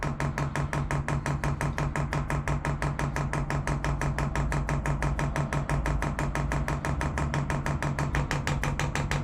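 A Chinese diesel heater running on an overland trailer, a loud continuous mechanical drone with a fast, steady ticking pulse throughout, close by and with no voices.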